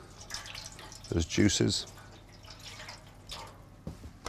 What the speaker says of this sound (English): Put some water in there to dissolve those